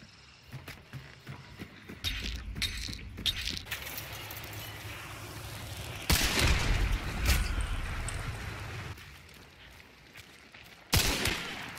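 Gunfire in the video game Hunt: Showdown rings out in several loud, rough bursts and clusters of shots over a steady rumbling background.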